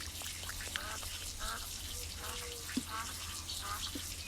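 Several short nasal duck quacks in the farming video game Game World: Countryside Field come in irregular bursts over a low hum and faint watery background.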